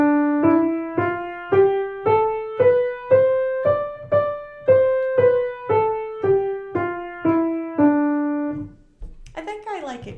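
A D Dorian scale played on the white keys of a keyboard, about fifteen evenly spaced notes rising then falling back down, loud and clear, followed by a brief noisy burst at the end.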